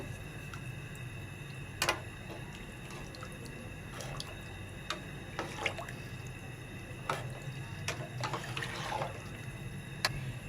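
Soft, scattered splashes and drips of water as beef is stirred in salted water in a pot, quiet and irregular with no voices.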